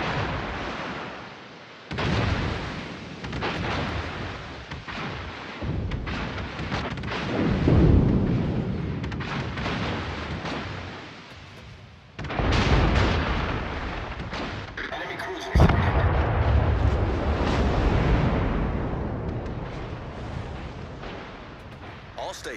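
Naval artillery fire from warships, Edinburgh against Odin at close range in World of Warships: heavy, booming salvos roll out in repeated broadband blasts over a rumbling battle bed, with a voice present.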